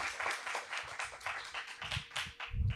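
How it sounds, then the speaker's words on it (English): A small audience claps for workshop mentors at an innovation event, with distinct, uneven hand claps close by, a few louder individual claps standing out and some light tapping throughout. "Please clap for them"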